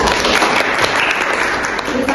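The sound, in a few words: audience applause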